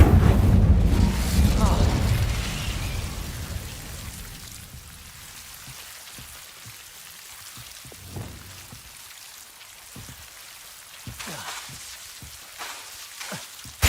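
An Incendio fire spell is cast in Hogwarts Legacy as a loud burst of flame and rumble that fades after about three seconds. A quiet stretch follows, broken by scattered sharp clicks and small impacts.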